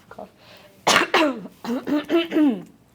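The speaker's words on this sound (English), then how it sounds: "Cough." A single sharp cough close by, followed by a short burst of talking voices.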